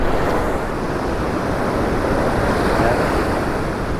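Strong wind on a Central Coast California ocean beach, a constant broadband roar of gusts against the microphone mixed with distant surf.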